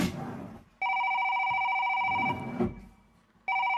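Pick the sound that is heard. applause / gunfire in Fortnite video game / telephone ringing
telephone ringing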